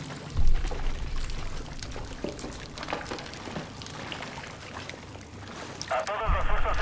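Water flows and pours in Call of Duty Advanced Warfare, a continuous rushing, splashing wash with occasional louder surges and low thumps, while someone talks over it.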